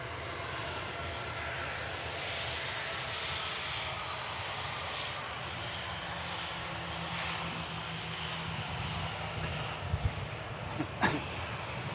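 A TUI airliner arriving from Zakynthos at Manchester Airport roars as a steady, broad engine wash at a moderate distance, with a faint tonal whine running beneath it and a few brief knocks near the end.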